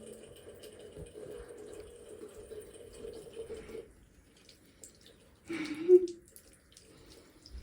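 Tap water runs steadily from a faucet for several seconds while a cat drinks from the stream, then stops, followed by a short louder splash or gulp near the end; the room is otherwise quiet.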